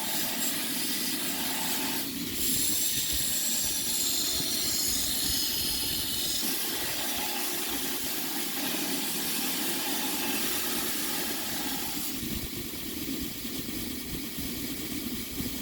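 Steady whirring and hissing of a grinder making finish grinds on a copper-accented nakiri knife blade, continuous with slight shifts in pitch as the blade is worked, no talk.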